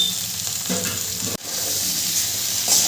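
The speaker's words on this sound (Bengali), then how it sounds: "এরপরে আমি গাজর আর বিনসটা দিয়ে দেবো" Carrots and beans frying with potatoes in a pan for a vegetarian navratan korma, a steady close sizzle with a few stirring scrapes, briefly interrupted midway, with no talking.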